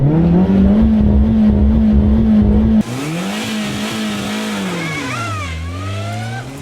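A Chevrolet Spark small car engine revs hard and accelerates on an off-road rally, its pitch climbing, dipping and climbing again, loud and close with gravelly road noise underneath.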